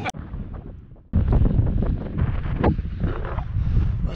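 Strong wind at an empty beach buffets the microphone in loud, rumbling gusts that surge suddenly and keep roaring steadily.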